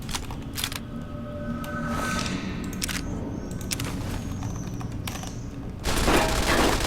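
Sharp gunshot blasts from a hunting shotgun in the video game Fallout: New Vegas, several separate reports spread across a busy mix of game noise, with a louder burst near the end.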